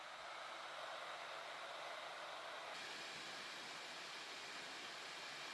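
Fans of an MSI Katana 15 HX gaming laptop with an Intel i9 run at maximum speed in the highest performance profile, a steady, dense broadband whoosh that brightens partway through and stays constant throughout.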